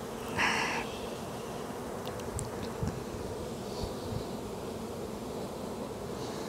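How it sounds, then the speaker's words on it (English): Honeybees from a swarming colony buzz around a hive and queen castle during a spring hive inspection, a steady close drone with a few brief louder passes of individual bees. "There are a ton of bees on the queen castle."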